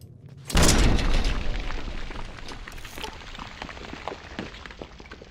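A frag mine explodes in Fallout: one sudden loud boom, then a decaying rumble with scattered debris patter fading over several seconds.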